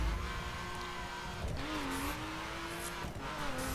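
Tuned, Cayman-like race car engine of 579 horsepower in The Crew, holding a steady rising whine with shifting pitch and faint tire noise, continuous and moderately quiet.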